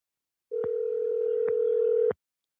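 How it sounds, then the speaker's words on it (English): Telephone ringing tone during a call, a single steady electronic tone of about one and a half seconds, clear and alone. "Can y'all hear the phone ringing?"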